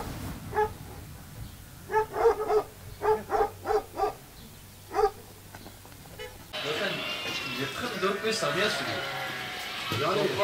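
A dog gives a run of short, hollow, hoot-like barks in an evenly spaced series, fairly close, before noisy speech and commotion take over in the aftermath of an earthquake.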